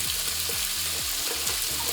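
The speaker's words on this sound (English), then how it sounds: "That sizzle means that your pan is warming up." Steady, loud sizzling of chicken frying in a hot pan, a continuous crackling hiss with a few faint clinks, no voices.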